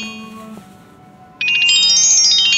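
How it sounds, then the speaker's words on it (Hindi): A phone's ringtone signals an incoming call. Loud electronic melodic tones cut in abruptly after a quieter lead-in of low tones and keep repeating to the end. "मुझे जरा फोन आ रहा है।"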